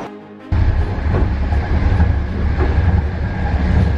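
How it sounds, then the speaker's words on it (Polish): A passenger train rolls on rails as it arrives in Lviv, a steady loud rumble and rattle of wagons beginning abruptly and continuing throughout, heard from on board with no talk. "Jedziemy sobie własnym pociągiem i dojeżdżamy właśnie do Lwowa."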